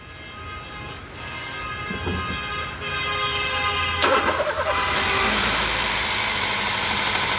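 A Hyundai i20 petrol engine cranks over and catches, then keeps running with a steady, close mid-pitched hum that grows slightly fuller after the start, with no talking over it.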